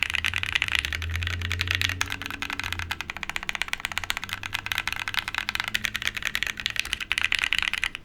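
Fast, steady clacking from a Calla TKL prototype mechanical keyboard being typed on up close, a dense run of crisp keystrokes that continues for the whole stretch.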